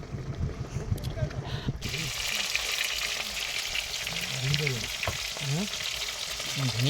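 Food sizzles and fries in a pan during outdoor cooking on a fishing trip in the Sundarbans creeks, a steady hiss that starts abruptly partway in, with faint talk and other sounds underneath.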